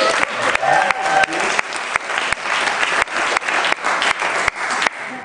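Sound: audience applause for the bands

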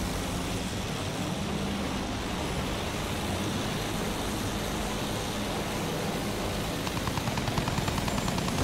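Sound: enemy aircraft engine in Battlefield 1 video game

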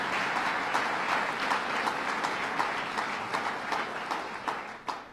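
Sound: audience applause

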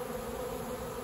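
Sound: honeybee swarm buzzing in the air

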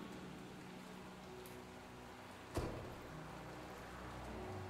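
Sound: rain falling, from the video game Batman: The Telltale Series

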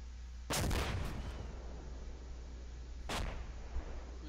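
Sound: rocket fired at a building

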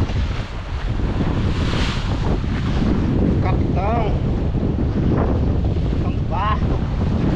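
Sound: fishing boat at sea with wind and waves

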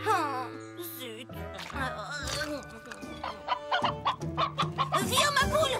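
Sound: hen clucking

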